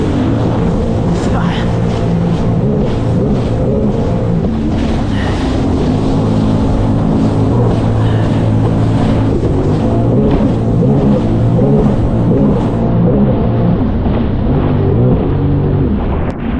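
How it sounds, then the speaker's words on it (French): A Sea-Doo Spark personal watercraft riding on open water, its engine droning loud and continuous with splashing hull slaps and heavy wind buffeting the microphone throughout. "Sur le site de Sea-Doo, ils appellent ça une moto marine."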